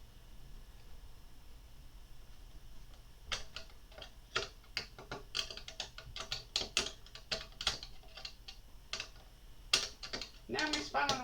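A small spanner tightening nuts on a model Spitfire kit, giving quiet, irregular metallic clicks and ratcheting ticks that cluster up close over a faint background hiss.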